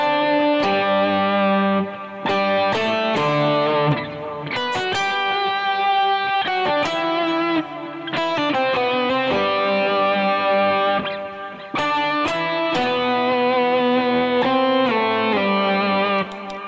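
An electric guitar with a POG octave pedal plays chords and riffs, a higher octave doubling each note, loud and sustained.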